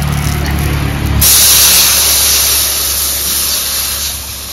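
Water poured into a hot pan of curry with chilli bursts into a loud, steady hiss that swells after a second and keeps sizzling close up for several seconds, no voices over it.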